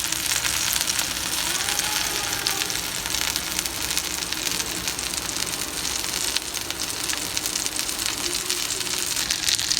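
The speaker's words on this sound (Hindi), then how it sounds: "ये देखें, हमारी फ़िश ऐसे ही हल्की आंच पर ये इस साइड से भी पकी" Pieces of fish tikka fry over a low flame, giving off a steady, dense sizzle that carries on evenly and close by from start to finish, with no voices over it.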